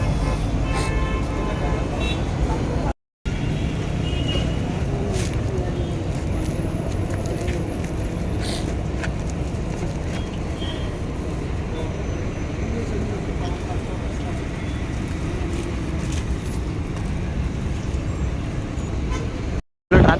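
Steady road traffic rumbles along the Krishnagiri to Hosur road, with brief car horn toots poking through the continuous wash of passing vehicles; people talk intermittently over the noise.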